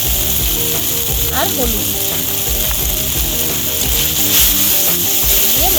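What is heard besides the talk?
spice paste sizzling in hot oil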